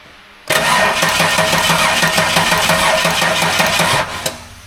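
A rebuilt L67 V6 cranks over on the starter for a compression test, with spark plugs removed and injectors disconnected. It gives a loud, steady, rhythmic churning for about three and a half seconds, then stops abruptly.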